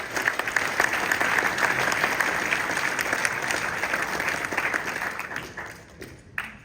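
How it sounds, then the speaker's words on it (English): Audience at a Chinatown community meeting applauds, a steady round of many hands clapping that holds strong then tapers off near the end. "Give all of our stakeholders a round of applause."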